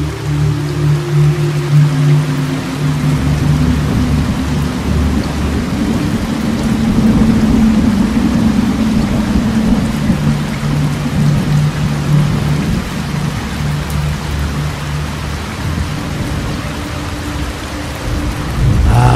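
Steady heavy rain falls on a village at night, a constant hiss with low rumbling thunder rolling underneath that swells in the middle, with no voices present.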